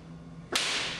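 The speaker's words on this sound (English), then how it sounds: "the clap should be crisp and clean, like two blocks of wood being slapped together" Crisp hand clap in a dance move, meant to sound like two wooden blocks slapped together: a single sharp, loud crack about halfway through, followed by a sustained wash of noise.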